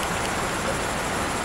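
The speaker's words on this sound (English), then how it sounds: "it's raining so heavily, but I'm in the car" Heavy rain drumming on a car in Golders Green, London, heard from inside the vehicle as a dense, steady broadband wash with no breaks, fairly loud and with no one speaking.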